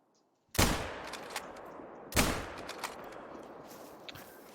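Two loud gunshots ring out in a hunting video game, each a sharp crack followed by a long decaying echo, spaced about a second and a half apart, with faint rustling between them.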